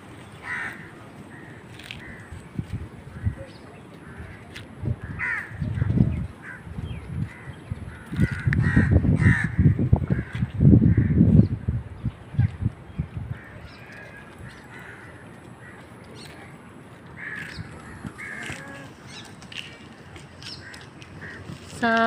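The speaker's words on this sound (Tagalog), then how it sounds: "Sa Pilipinas, wala nang ganyan kalalapit ng mga ibon, no? Mga uwak." Crows caw close by in a residential subdivision, scattered calls rising to a dense, noisy burst midway before thinning out, with a person talking at times.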